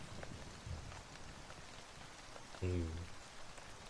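Steady rain patters in the background as a continuous, fairly quiet wash, with a brief louder thump near the end and faint voice traces underneath.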